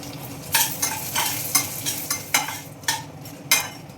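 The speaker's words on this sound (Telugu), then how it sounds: "మంట తగ్గించుకుని దోరగా వేయించుకోండి" Dried red chillies and dal tempering in hot oil, a loud crackling sizzle broken by repeated rhythmic stirring strokes of a spoon through the pan, close up with no voices.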